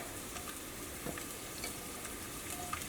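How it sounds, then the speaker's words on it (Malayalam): Ginger and garlic fry in hot oil with a soft, steady sizzle and light crackle, with faint stirring scrapes, and no voices. "അപ്പോൾ ഇതൊക്കെ നമുക്ക് ചൂടായ ഓയിലേക്ക് ഇടാം. ഫസ്റ്റ് ഞാൻ ഇഞ്ചിയും വെളുത്തുള്ളിയാണ് ഇടുന്നത്."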